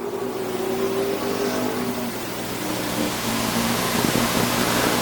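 Super stock race cars circle Flamboro Speedway in a continuous, dense engine roar, with a rising pitch as a car passes close by near the end.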